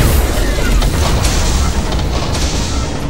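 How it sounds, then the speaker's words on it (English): A nova cannon firing from an Imperial Navy ship in the video game Battlefleet Gothic Armada, a loud booming blast followed by a heavy rumbling roar that carries on throughout. "Nova cannon fire."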